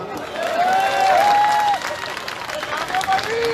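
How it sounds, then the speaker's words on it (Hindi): Crowd clapping and cheering at a political rally in India, a broad wash of applause with a voice or whistle-like tones sliding over it, fairly loud and steady throughout. "ठोको ताली"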